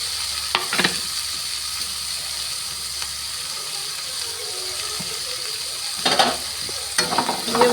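Capsicum, chilli and coriander leaves sizzling in a hot pan while being stirred, a steady frying hiss with occasional scraping spatula strokes, close and alone without talk.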